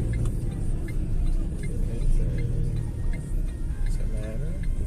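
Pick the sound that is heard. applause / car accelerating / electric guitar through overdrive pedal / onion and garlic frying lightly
car accelerating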